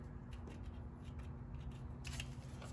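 Cutters snipping through a wire harness where the wire has melted into the plastic, on an abused Z06 Corvette with a no-start fault; close, repeated crunchy snips over a steady low hum, sharper near the end.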